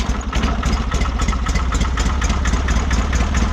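A Wheel Horse 520-H garden tractor engine runs at a steady, loud idle close by, with a continuous low rumble and rapid mechanical clatter and no voices.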